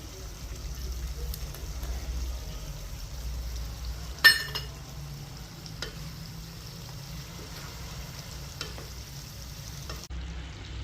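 Spices such as garam masala and coriander-cumin are stirred into capsicum and potato sabji frying in oil, giving a soft, low sizzle with a sharp spoon clink against the pan partway through, quiet and close.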